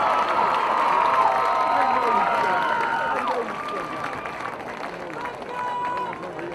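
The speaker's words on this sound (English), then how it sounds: "one more big round of applause" Crowd cheering and applause at a Butler versus Taylor college football ceremony honoring coaches and student athletes, a sustained roar of voices and clapping that stays loud throughout, with shouting voices mixed in.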